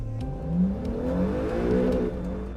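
A 2020 Acura Honda NSX engine runs through factory break-in at the Anna plant, revving up and down in close, loud sweeps with a steady mechanical drone underneath.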